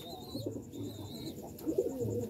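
Soft, low cooing from Lotan pigeons, a few rolling coos close by, with a thin electronic whine in the background.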